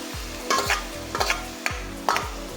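Green chilli, crushed ginger and garlic being stirred in a pan on an induction cooker, with repeated scraping strokes over a steady low sizzle of frying, close and moderately loud with no talking.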